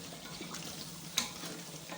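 A spoon stirs Afghani biryani pulao in a pan, soft scraping and gentle sizzling close by at low volume, with one brief louder clink.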